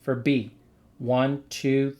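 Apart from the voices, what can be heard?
No everyday noises stand out.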